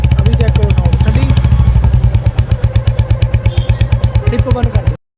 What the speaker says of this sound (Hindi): ये लो भाई साइलेंसर चेंज करा दिया हमने। तो अभी साउंड चेक करो बाइक का।